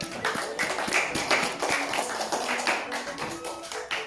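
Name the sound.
audience clapping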